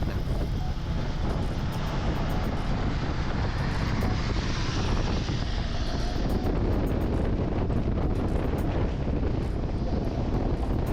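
Strong wind roaring past while riding a Honda CBR150R motorcycle on a road trip to Pilok, loud steady rushing buffeting with engine drone underneath, continuous throughout.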